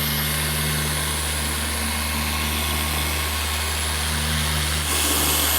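A car polisher fitted with a 7-inch pad buffs the paint of a BMW 1M, giving a continuous, even motor whir and hum held close up, with a slight rise near the end.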